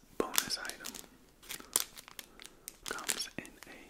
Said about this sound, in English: comes in a small plastic bag